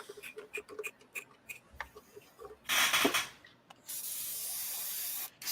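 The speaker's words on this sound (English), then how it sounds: "Different airbrush. Make sure this one sprays before I start doing anything with it." An airbrush sprays: a short hissing burst is followed by a longer, steady airy hiss, with scattered light ticking and handling noises before it.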